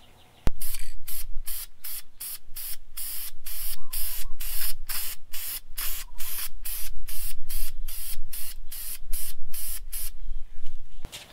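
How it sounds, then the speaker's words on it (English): Car brake calipers being spray painted on a Toyota Yaris, a long run of loud close aerosol hisses in rapid even bursts with short gaps between them, no voices. "I'm just going to go ahead and work on the calipers and get them painted."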